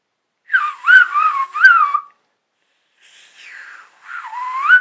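A fingerless whistle made without using the fingers, heard as a series of bright, wavering pitched tones: a lively burst of several rising and falling notes, a short pause, then softer gliding whistles that swell louder again at the end.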